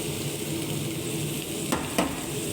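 Onion frying in a pan for brown rice with chicken, a steady even sizzle throughout with two brief louder crackles or stirring knocks near the end, close and alone without talk.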